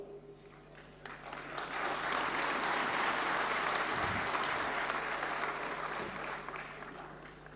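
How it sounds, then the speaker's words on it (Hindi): Audience applause at a speech swells to a steady, dense roar of clapping from a large crowd, holding for several seconds with no voice over it. "मेरे बोलने पर आप तालियां बजा रहे हैं"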